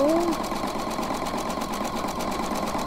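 Sewing machine running steadily while zigzag-stitching a rope trivet wrapped with scrap fabric, a continuous close motor whir with a brief tone at the start.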